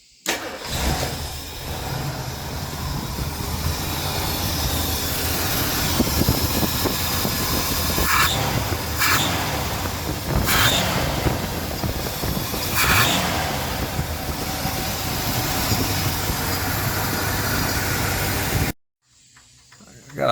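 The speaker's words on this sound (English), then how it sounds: "Got a belt that squeals a little bit." 1976 Ford Thunderbird V8 engine idling and revving in several sharp bursts, with a slightly squealing belt and a steady hiss underneath, close and fairly loud.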